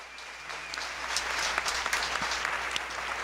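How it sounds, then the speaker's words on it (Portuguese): A standing audience at a seminar talk applauds steadily, a dense, even wash of many hands clapping throughout, with a faint voice underneath. "De pé e aplaudir."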